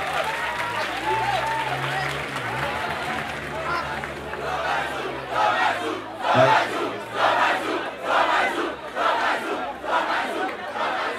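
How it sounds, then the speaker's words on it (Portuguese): A crowd at a street rap battle claps in a steady rhythm that grows stronger partway through, mixed with shouting and chatter around the performers. "Palmas e palmas e palmas e palmas"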